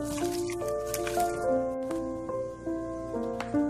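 Wet squishing and sloshing as chicken is mixed by hand with onion, tomato, green chilli and curry leaves, close and soft, with background music playing throughout.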